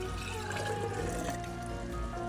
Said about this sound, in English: I'm going to pour it into the jar